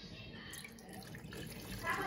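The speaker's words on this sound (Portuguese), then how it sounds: "E despeje água para empurrar esse amaciante para dentro da máquina." Water poured into the detergent drawer of a front-load washing machine, a Samsung WW85J43MW/AZ or LG WD10WP6A, flushing softener through; a steady close splashing trickle that swells near the end.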